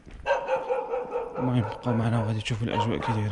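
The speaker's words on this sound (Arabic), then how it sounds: "هاد الكلب هذا صدعنا." A dog barks repeatedly near a roadside in Morocco after the earthquake, its loud barks sounding under and between a man's speech.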